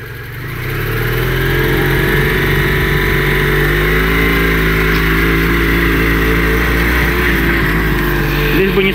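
A homemade all-terrain vehicle with an Oka engine revs up from quiet and holds a loud, buzzing drone whose pitch rises and dips as the throttle changes. It stays close and continuous.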